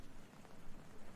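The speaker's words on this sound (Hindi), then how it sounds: "गुलाबी ठंडक की हल्की बारिश पड़ रही है।" Light rain falls steadily as a soft, even wash of patter, a cool drizzle at seven in the evening, low and unbroken with no voices over it.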